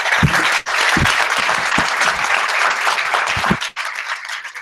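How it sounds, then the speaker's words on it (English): An audience at a live tech Q&A claps continuously, a thick, loud patter of many hands with a few sharper individual claps. It drops briefly twice, then carries on to the end. "I think they definitely clapped louder for you than for me"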